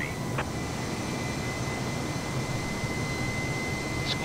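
Airbus A320 jet engines in Microsoft Flight Simulator 2020 on approach near Entebbe, a steady even whine and broadband roar holding constant throughout, with a faint brief tone near the start.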